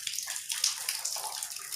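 Water runs steadily from a tap or pipe on Canigao Island, a continuous close splashing hiss with faint gurgles and no voices.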